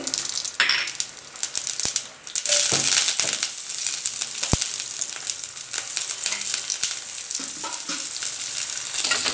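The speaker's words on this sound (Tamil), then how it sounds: "இப்போது எண்ணெய் காஞ்சதும் கடுகு பச்சை மிளகாய் கருவேப்பிலை போட்டு தாளிச்சுக்குவோம்" Mustard seeds, green chillies and curry leaves splutter in hot oil, a loud crackling sizzle with popping bursts and scattered sharp pops throughout.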